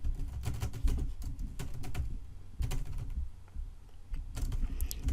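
Someone types an essay on a computer keyboard: close, quick irregular clatter of keystrokes in short runs with brief pauses between.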